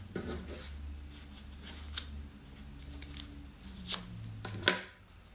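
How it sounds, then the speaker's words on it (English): Origami paper for Christmas lights is folded, pressed and creased, giving faint scattered crisp crackles and a few sharp taps over a quiet background. "We create a new fold"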